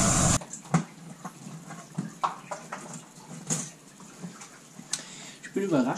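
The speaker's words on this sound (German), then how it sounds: "es plätschert." Water splashes and trickles while the cooling system of a 2001 RAM with a 5.9 Magnum engine is flushed through the block, irregular splatters and drips close by with a voice intermittently over them.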